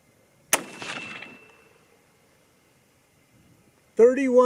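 A single sharp rifle shot from a .243 Win or 6mm ARC with a 22-inch barrel cracks out loud and close, its report decaying over about a second, followed after a pause by a voice speaking.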